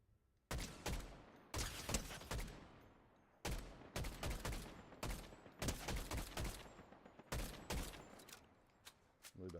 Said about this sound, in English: Gunfire right there.